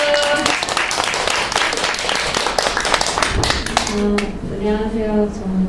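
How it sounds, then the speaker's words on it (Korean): An audience of teachers at an annual general meeting bursts into loud, close applause that runs dense and sustained, then thins as a voice begins speaking over the last scattered claps. "박수!"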